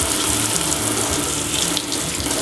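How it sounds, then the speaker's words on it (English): Hot tap water runs steadily into a sink over an aquarium algae magnet, a continuous close hiss and splash with no pauses for the whole stretch. "Run some hot water over it,"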